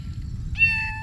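A lost stray cat lets out a single clear meow close by, a short high tonal call over a low rumbling background.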